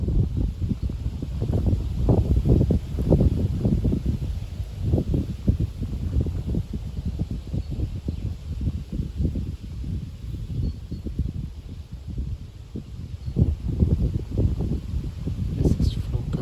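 A strong wind rises suddenly on a May evening, producing a dense, continuous roar with gusty surges and rustling foliage that stays loud throughout.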